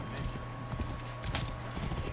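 Horse hooves clip-clop at a quick, rhythmic gait during a race in the video game Assassin's Creed Origins, quiet and close over a faint background bed.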